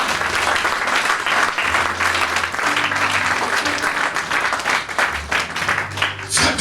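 A church congregation applauds loudly and steadily for several seconds, a dense continuous wash of clapping with music underneath.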